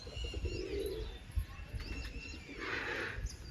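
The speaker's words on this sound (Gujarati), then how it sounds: "આ આપણા કબૂતર ચણે હે. ચણ નાખી દે એટલે ચણવા માંડે." Pigeons feeding on scattered grain outdoors, with soft cooing and chirps, a few wing flutters and a brief thump, all close by over steady background noise.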